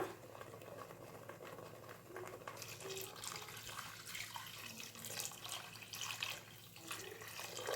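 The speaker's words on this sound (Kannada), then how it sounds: "ಈಗ ನಾವು ನೀರು ಹಾಕೊಂಬಿಡೋಣ" Water splashes and gurgles into a pot of simmering masala on the stove, a soft, continuous bubbling pour with faint kitchen background noise.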